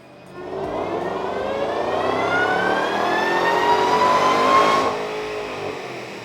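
Supercharged stock 2012 Shelby GT500 with a VMP Gen3 TVS blower and larger pulley revving on a dyno, a loud rising wail that climbs steadily for about four seconds with a whining supercharger tone, then drops off.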